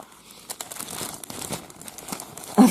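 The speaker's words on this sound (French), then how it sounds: "Je voulais pas déchirer le sac." A plastic bag crinkles and rustles steadily as a parcel is unwrapped up close, with a sharper crackling burst near the end and no talking.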